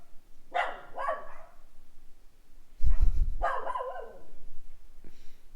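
Several barks from a dog at a busy convention, a couple of close vocal outbursts with a thump in between, fairly loud amid low background noise.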